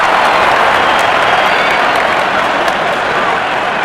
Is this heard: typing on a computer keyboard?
no